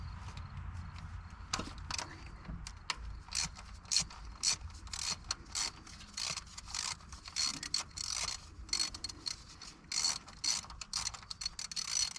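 A hand ratchet clicks in quick bursts while loosening 12 mm starter bolts on a 2012 Nissan Titan, the close metallic ticking repeating in uneven runs with brief pauses between strokes.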